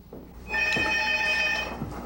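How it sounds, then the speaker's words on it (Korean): A telephone rings with an incoming call, a bright electronic trill repeating loudly and close for a couple of seconds, with faint room sounds around it. "그때 걸려온 한 통의 전화"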